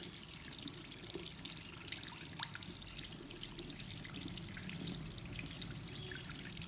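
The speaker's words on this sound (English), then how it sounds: "wash the epilator head under running water" The head of a Braun Silk Epil 7 epilator is rinsed under a running tap, a soft, steady trickle and splash of water, faint and continuous.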